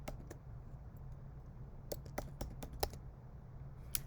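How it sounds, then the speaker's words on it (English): A computer keyboard typed on in short, sparse bursts of light clicks over a steady low hum, quiet and close, with pauses between keystrokes. "let's see if we type down here"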